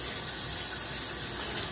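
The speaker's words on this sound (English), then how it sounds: "Wash my hands officially." Tap water runs steadily as hands are washed under it in a sink, a continuous close splashing hiss with no talk.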